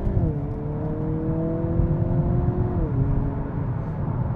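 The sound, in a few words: Hyundai Kona N engine accelerating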